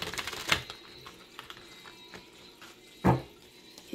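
A tarot deck shuffled by hand, giving two short crisp riffling bursts with quiet pauses between, close and alone.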